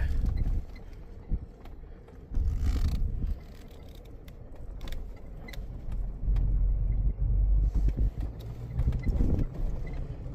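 A car engine towing a 2-ton trailer up a steep road gives a low, laboring rumble that surges and eases, with some mechanical knocks and clunks mixed in, close and loud.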